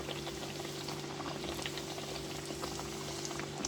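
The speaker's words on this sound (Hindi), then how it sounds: "ऑयल गर्म हो गया था, तो अब मैं इसको ऑयल में जो है डाल दूँगी इस तरह।" Dal kachori fries in hot oil, giving a continuous faint bubbling sizzle with scattered tiny pops, steady and close, with no talk.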